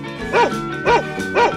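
A dog gives three evenly spaced bow-wow barks, close and clear, each sharp with a tonal rise and fall, over a faint steady background.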